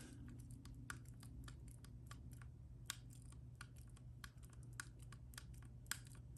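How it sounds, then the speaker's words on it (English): The trigger of a Sig P322 pistol, which has some play, wiggles back and forth and clicks against the arm that holds it. The result is a run of small, sharp, irregular clicks, close and quiet, with no talking. "You can wiggle the trigger, hear it."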